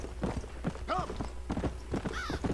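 Horse hooves clip-clop in a steady trotting rhythm with a couple of whinnies in Red Dead Redemption, heard up close while someone talks over them.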